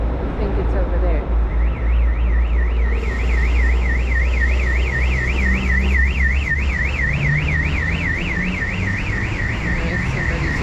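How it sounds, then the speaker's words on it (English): A car alarm wails loud and steady in a rapid warbling cycle, running continuously over busy traffic rumble on a chaotic city street in Panama City. "somebody's alarm is going off"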